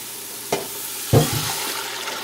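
Black beans and vegetable broth go into a pot of pumpkin black bean soup, giving a soft clunk followed by a heavier liquid splash and a gentle sizzling simmer over a steady kitchen background.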